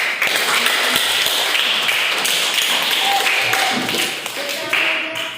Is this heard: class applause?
yes